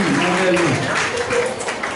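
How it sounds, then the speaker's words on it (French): A church congregation at an evangelical evening conference session applauds, steady dense clapping filling the hall under ongoing voices. "Applaudis le Seigneur de bien faire"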